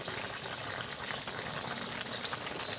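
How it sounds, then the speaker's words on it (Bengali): Curry water boiling in a pot for a Malabar spinach curry, a steady dense bubbling roar that holds evenly throughout with no talking. "তরকারি জলটা ফুটে উঠেছে"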